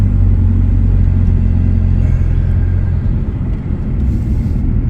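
A Chevy Cruze fitted with a downpipe, stock exhaust and a Magnaflow resonator drones steadily from inside the car while driving, a loud, low, continuous exhaust rumble that dips slightly toward the end.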